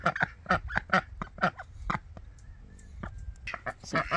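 Several ducks kept in a garden pen call out in a quick run of loud, close honking quacks, pausing briefly before more calls overlap at the end.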